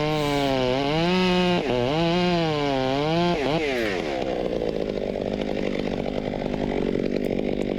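Stihl 661 chainsaw felling a tree, revving up and down in loud wavering surges close by, then settling into a steady, gritty cut through the wood.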